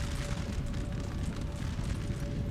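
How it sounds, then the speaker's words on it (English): 12-pounder cannons firing in the Napoleon Total War video game, heard as a steady, dense rumble of distant battle noise with continuous muffled booms. "thanks a lot to the 12-pounder cannons, which are spraying the enemy"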